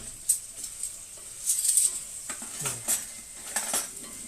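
Utensil scraping and clinking against a pot as spices are stirred into frying onions and carrots for Ukrainian plov, a few irregular metallic clatters close by, no talk.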